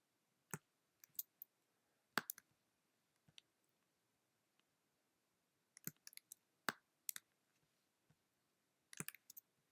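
Computer mouse clicks, crisp and close, come in small irregular clusters of two or three with pauses between, alone in a quiet room.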